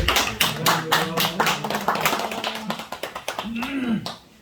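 A church congregation at a Wednesday service claps in a quick, steady burst of hand claps for about four seconds, close by, with voices talking over the clapping.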